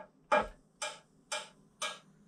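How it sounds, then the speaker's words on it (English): A synthesized hi-hat built from a sample of a bashed cooking pot plays four short, crisp ticking hits at an even rhythm, each bright with a quick decay, heard alone with no voices. "we're going to turn this one into vaguely a hi-hat sound"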